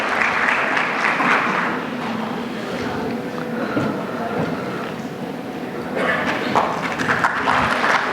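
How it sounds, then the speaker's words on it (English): Audience applause at a corporate HR panel event during a memento presentation on stage, steady broadband clapping throughout with talk audible beneath it and a swell of louder clapping near the end. "can we have a huge round of applause"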